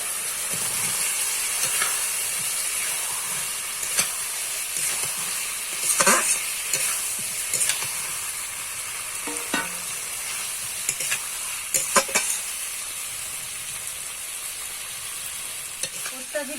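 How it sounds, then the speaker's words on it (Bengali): Pre-fried potatoes for Kashmiri aloo dum go into a hot frying pan and are stirred, making a steady, close sizzle and hiss punctuated by scattered scraping knocks of the spoon. "এবার ভেজে রাখা আলু দিয়ে দেবো"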